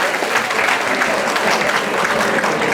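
A crowd at a tribute gathering in Paris claps steadily, a thick, continuous wash of applause at even volume, with no speech over it.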